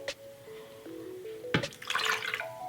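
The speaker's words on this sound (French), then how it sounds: "je vais tout simplement verser le lait" Milk poured into a mixing bowl for brioche dough, a short splashing, gurgling pour that builds toward the end after a few light knocks, close and alone.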